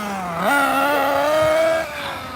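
A Team Losi 8IGHT 1/8-scale nitro RC buggy engine runs close by with a steady buzzing drone that rises sharply in pitch around half a second in, holds high, then drops back toward idle near the end.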